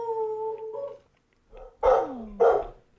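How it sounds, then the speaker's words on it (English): A dog named Courage gives a drawn-out howl-like whine, then after a brief pause lets out two sharp, loud barks close by, with no talk over them. "My dog's going crazy. Why are you barking, Courage?"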